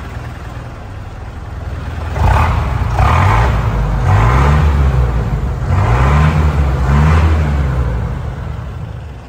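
A 1994 Ford F1000 Super Cab pickup with an MWM 229 turbo intercooler diesel engine revs repeatedly, close and loud, with several rising and falling throttle blips over a steady idle.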